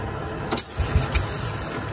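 A two-stroke dirt bike, a 250 SX, firing up after a quick mist of starter fluid, with a brief mechanical clatter, then the engine catching and pulsing close by.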